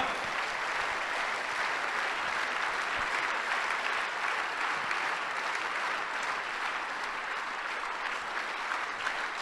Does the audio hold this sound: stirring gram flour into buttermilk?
no